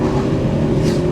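Fiat Bravo HGT with its five-cylinder engine pulling from 2000 rpm, a loud, close, steady engine drone building smoothly under acceleration with no talk.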